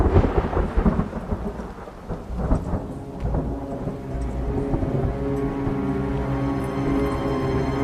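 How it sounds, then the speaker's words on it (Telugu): Thunder rumbling outside during a rainstorm, deep rolling booms over a steady hiss of rain, loud and sustained with no one speaking. "బయట బాగా ఉరుముతుంది."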